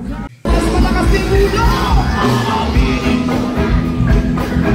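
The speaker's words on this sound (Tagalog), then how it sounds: "grabe ang ingay ng crowd mga idol" Loud, dense crowd noise with yelling and cheering fills a live concert as the vocalists jam on stage, a steady roar after a brief gap at the start.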